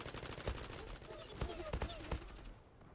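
Gunfire from the Zula video game in a competitive match, several sharp shots spaced out, with a pair close together near the middle and background game noise beneath.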